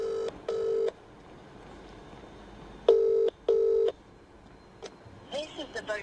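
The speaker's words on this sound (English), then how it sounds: "Just going to make a normal call, see if we can make that louder." Touch-tone keypad beeps from a mobile phone as a call is dialed, four clear, evenly pitched tones in two pairs over a quiet background, followed by faint brief chatter.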